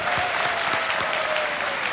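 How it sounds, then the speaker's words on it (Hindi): Studio audience on a Hindi quiz show applauds a departing contestant, steady dense clapping filling the whole moment at moderate loudness, with no talk over it. "एक बार फिर उनके लिए तालियां बज जाएं विकास सिंह जी के लिए।"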